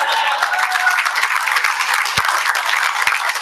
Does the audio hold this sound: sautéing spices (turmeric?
no